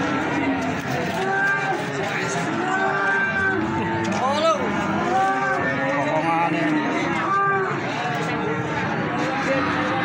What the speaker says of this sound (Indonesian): Sapi limusin super.